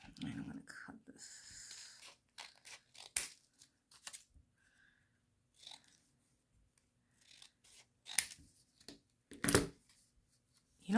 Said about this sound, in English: I'm gonna cut this.